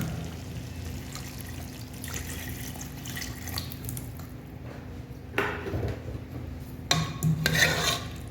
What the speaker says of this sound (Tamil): தண்ணி ஆட் பண்ணிடுறேன்.